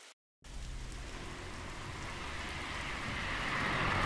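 Steady pouring rain in the indie horror game Holbrook Hotel, a dense continuous hiss with low rumble that starts abruptly after a brief silence and swells slightly louder, no voices.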